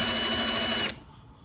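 A power drill with a depth-collared bit whines loudly at high speed drilling into wood, then cuts off abruptly, leaving a quiet room tone behind.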